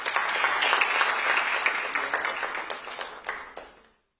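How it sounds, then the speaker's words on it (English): Audience applause at an awards ceremony honouring community impact makers in Ghana: a loud, dense burst of clapping that holds steady, then thins and fades out over about four seconds. "A big round of applause."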